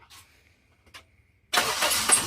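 Toyota Sera/Corolla engine cranking and catching right away after a starter replacement, a quick start that settles into a loud, steady running roar after a few faint clicks.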